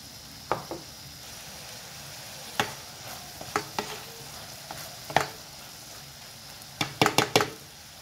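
Baguio beans tossed in a pan with soy sauce and black pepper, giving a run of scattered scraping and clacking stir strokes over a low steady sizzle, with a quick burst of strokes near the end.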